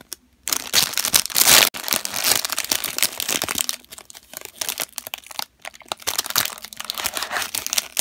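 Plastic packaging around a Chawa squishy toy shaped like a taiyaki fish is crinkled open close up, in loud, irregular bursts of crackling and rustling separated by short pauses.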